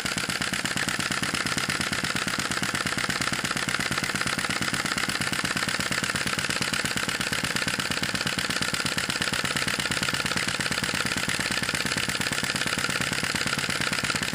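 A Sai Hu V1-45 vacuum engine, also called a flame-licker, runs at its usual speed on a small flame, giving a steady, fast mechanical chugging with a constant rattle that continues unbroken, close and fairly loud, with no talking.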